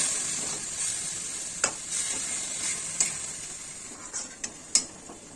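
Fenugreek greens and green chillies frying in a little oil, a steady close sizzle with soft stirring scrapes and a few sharp utensil clicks against the pan.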